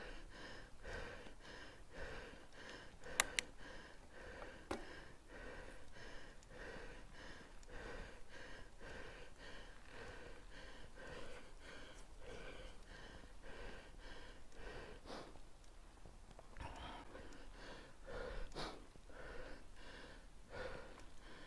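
An elderly man pants heavily, with rapid, rhythmic gasping breaths and snorts going on continuously and close up, with no talking.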